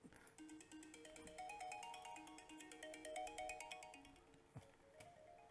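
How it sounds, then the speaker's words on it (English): A phone ringtone for an incoming call plays alone as a steady, melodic electronic tune, looping its chiming notes continuously and fairly clearly, with no talk over it. "I'm getting a phone call. Scammers calling me."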